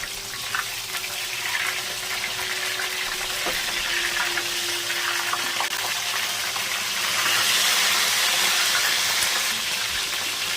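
Fish frying on a gas stove at medium flame, a steady hiss and crackle of hot oil that holds evenly throughout and grows slightly brighter near the end, with no voices.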